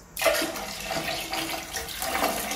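Dirty water from cleaning a sofa is emptied from a bucket, suddenly pouring out in a heavy rushing splash, continuing as a steady gush into a basin or drain, close by and loud.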